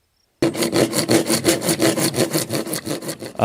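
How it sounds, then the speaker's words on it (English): A saw cuts through PVC pipe with fast, regular back-and-forth rasping strokes, loud and close, starting abruptly after a brief silence and carrying on without pause. "So first, you're gonna have to cut the PVC pipe."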